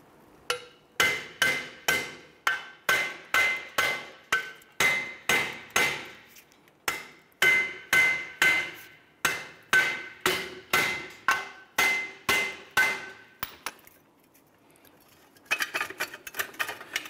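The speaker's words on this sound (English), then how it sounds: "I'm going to use my hammer and I'm going to strike these here" A hammer strikes the bolts to drive the wheel hub out of the steering knuckle on a 2011-2018 Ram 1500, with loud, sharp, evenly spaced metallic blows repeating in quick bursts, then a short pause and a few lighter taps.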